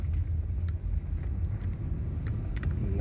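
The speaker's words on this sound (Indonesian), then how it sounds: "Nah, ini mobil-mobil besar." Large vehicles rumble past on a Palembang road near a toll route, a steady deep low roar of engines and tyres with a few faint higher clicks, continuous and moderately loud.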